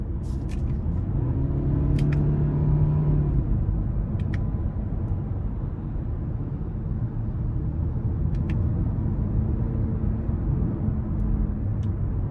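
A 2020 Lincoln MKZ with the standard 2.0 engine driving, its steady low engine drone and road rumble holding throughout with brief tonal shifts in pitch as gears change, loud and continuous.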